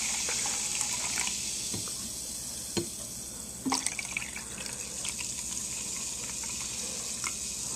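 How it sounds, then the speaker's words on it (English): SodaStream carbonated water fizzing in a glass, a close, steady bright hiss of bubbles with scattered tiny pops and clicks running continuously, no talking. "You can hear it fizzing"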